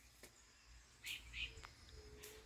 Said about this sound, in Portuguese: Passarinho cantando.